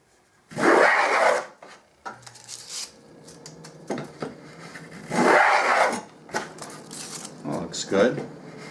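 A hand plane pulls a full shaving from a wooden workpiece while a skewed rabbet plane is being made: two long, loud rasping strokes, each about a second, close up, with quieter handling and scraping between them.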